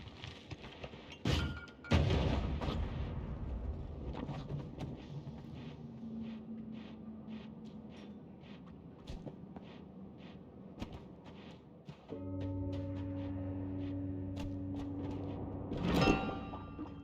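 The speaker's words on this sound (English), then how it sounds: "My combat wand is a bomb wand." Bomb wand explosions in the video game Archmage Adventures: several sharp booming blasts, the loudest near the start and one near the end, over steady game noise and a droning tone.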